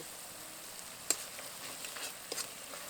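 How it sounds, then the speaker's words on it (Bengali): A spice paste with salt and turmeric fries in hot oil for a Bengali yam (ol) and prawn dish, making a faint, continuous sizzle with a few soft stirring scrapes and clicks. "এবার মশলার কাঁচা গন্ধ চলে যাওয়া পর্যন্ত ভালো করে কষিয়ে নেব"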